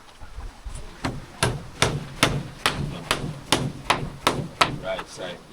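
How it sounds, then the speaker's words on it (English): Repeated hammer strikes at an off-grid riverside camp in Jamaica, about a dozen sharp, evenly spaced blows, close and loud, with low background noise between hits. "The hammer."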